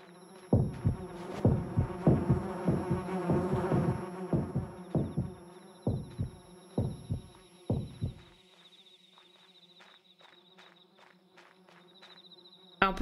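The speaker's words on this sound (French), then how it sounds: "Là, il y a des abeilles." Bees buzz in the horror game Yomawari: Lost in the Dark, a droning insect hum under a series of loud rhythmic thumps like footsteps, then a thinner lingering whine after the thumps stop.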